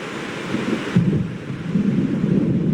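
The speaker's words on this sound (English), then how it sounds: "It seems there's a storm coming." Low, rolling thunder from an approaching storm in the video game Alan Wake Remastered, a loud continuous rumble that swells midway, with steady rain-like hiss beneath.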